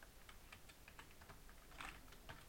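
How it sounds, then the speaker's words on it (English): Quiet, irregular clicks of typing on a computer keyboard, a rapid run of keystrokes alone, with no talk. "Over here you are going to type"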